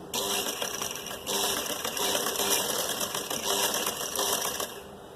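Sewing machine stitching two pieces of suit or blouse fabric together, a fast continuous mechanical whirr running in close, loud stretches with brief dips between runs.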